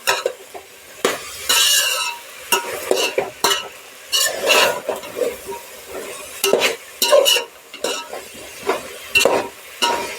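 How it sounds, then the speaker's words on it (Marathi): A mixed vegetable curry masala is stirred in a pan, with a close, loud series of irregular scraping strokes and clanks of the spoon against metal over a faint sizzle. "आणि हे हलवून घ्यायचं छान असं परत"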